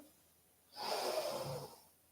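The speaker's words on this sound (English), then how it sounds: "big breath out" A single long exhale during yoga breath work, a soft, steady whoosh of air lasting about a second that fades away, heard close and alone in a quiet room.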